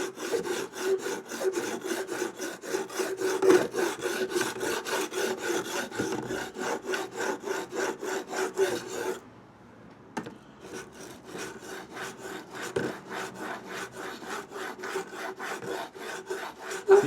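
A chisel edge is honed on a sharpening stone with a fast, even rasping rhythm of back-and-forth strokes, close and fairly quiet, pausing briefly midway before resuming.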